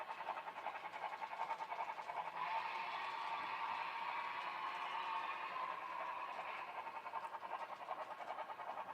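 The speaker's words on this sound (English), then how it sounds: "The farther the locomotive gets away, the quieter it gets." A model locomotive runs with a faint, continuous mechanical whir and rattle that stays distant and low, no voices over it.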